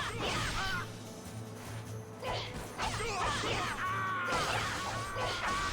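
In the action game Odin Sphere Leifthrasir, a bird enemy gives harsh cawing cries amid combat hits, swooshes and crashes, with layered game music and effects throughout.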